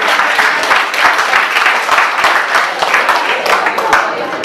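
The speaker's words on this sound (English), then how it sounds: "you should always clap" Audience at a skill development talk claps loudly and steadily throughout, dense overlapping hand claps with a few sharper individual claps standing out, continuous from start to finish.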